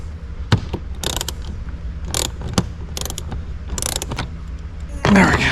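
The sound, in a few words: ratchet removing 7mm bolts from car radio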